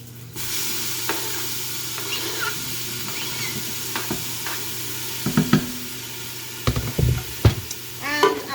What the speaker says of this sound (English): We'll pop our apples in there.